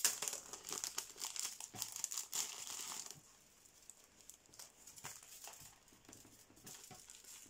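Crinkly plastic packaging around a cheap necklace being pulled open, rustling and crackling loudly for a few seconds, then softer scattered crinkles and taps, close and alone.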